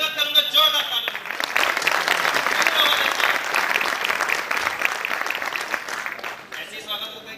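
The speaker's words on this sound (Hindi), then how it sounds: "सबसे पहले मैं आप सभी का स्वागत करूंगा जोरदार तालियों से।" Loud, sustained applause from an audience at a business plan meeting, dense clapping swelling and holding for several seconds before tapering, with some voices mixed in.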